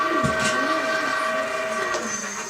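Rumbling train noise with sustained steam-whistle-like tones and a swooping pitch sweep, steady and fairly loud throughout with no voices.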